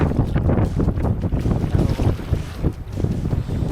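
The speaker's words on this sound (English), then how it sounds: "More wind." Strong wind buffets the microphone while foiling across Moreton Bay, a loud continuous roar with gusty surges and water rushing beneath, no talk heard.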